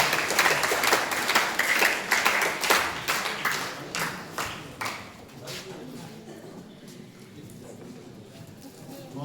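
A crowd applauds a school principal at a government high school function, with dense close clapping that thins into scattered claps and fades over several seconds.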